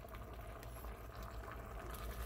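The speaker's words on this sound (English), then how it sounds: "I've got my corn on the back burner back there. All I'm doing with that corn is steaming it." Corn steaming in a pot on a back stovetop burner, a soft continuous bubbling and hissing that runs low and steady throughout with no voices.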